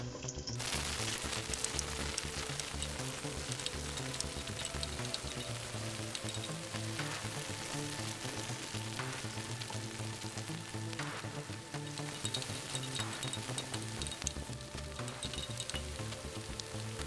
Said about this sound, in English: Once they are fried, add onions and fry till golden brown.